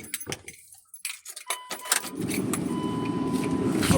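Keys jangle and a 2000 Dodge Durango engine cranks and starts, then settles into a steady, slightly uneven idle rumble that holds close and moderately loud to the end.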